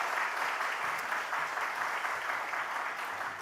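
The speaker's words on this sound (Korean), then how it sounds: "여러분 박수로 우리 격려해 주시고 또 응원해 주시기 바랍니다" A church congregation claps during a Sunday worship service, a dense, even wash of applause sustained throughout at moderate distance with no voices over it.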